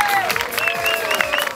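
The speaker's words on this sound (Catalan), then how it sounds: "un aplaudiment per ells" Crowd applause for the Maverick.cat country dance group at a country night during a town festival in Horta, a steady stretch of clapping with a whistle-like tone running through it.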